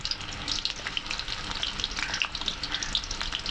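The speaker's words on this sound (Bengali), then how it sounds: "তেল দিয়ে দিলাম। তেজপাতা দিয়ে দিলাম। পেঁয়াজ দিয়ে দিলাম।" Onion and bay leaf fry in hot oil, giving a continuous bright sizzle with small crackling pops scattered throughout, close by and fairly quiet.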